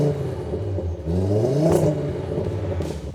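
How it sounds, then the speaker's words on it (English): Five-cylinder turbo car engine revving up and settling back, a loud close rumble with a rising whir and some rattle, heard alone with no talk. "It's a 5-cylinder turbo. You want to hear it?"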